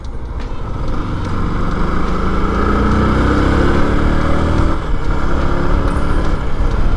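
A Yamaha YZF-R125 motorcycle engine runs steadily on an open road, a loud continuous drone with a rising, shifting pitch as the bike accelerates, close to the rider and without talk.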